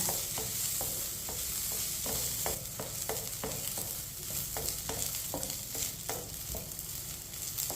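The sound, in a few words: semolina (suji) halwa being stirred and roasted in a pan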